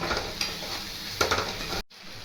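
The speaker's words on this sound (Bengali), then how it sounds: "যতক্ষণ না তেল বেরিয়ে আসে ততক্ষণ কষবো" Masala for paneer kofta is stirred and sautéed in hot oil, a steady close sizzle broken by a few spoon scrapes against the pan before it briefly cuts off.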